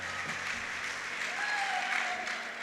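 A church congregation claps together in sustained applause during a worship service, a dense wash of hands with faint cheering or tones rising through the middle.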